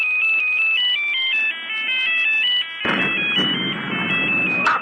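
A cell phone ringtone plays from a recording of a phone used to set off an explosive device in a hen house, a loud repeating electronic melody that gives way to a noisier burst partway through.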